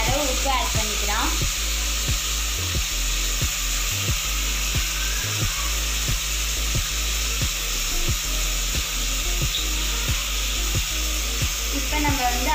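Onions and tomatoes sautéing in a pan for mutton gravy, a steady sizzle throughout with regular soft scraping strokes of a spoon stirring, close by and continuous.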